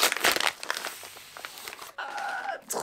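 A brown kraft paper envelope being opened by hand, close crinkling and tearing of paper in short rustling bursts, followed by a sliding scrape.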